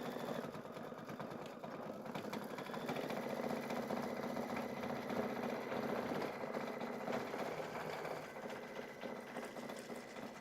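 An embroidery machine stitches a Kimberbell signature stitch on a quilting project, its needle running in a quick, steady mechanical patter with a faint motor hum, fairly quiet and uninterrupted.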